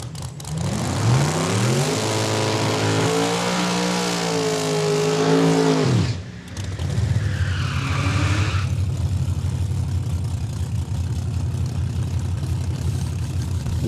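A drag race car blasts down the strip at Saskatchewan International Raceway, a loud sustained engine roar climbing in pitch through gear changes, then cutting off abruptly before fading exhaust and track ambience.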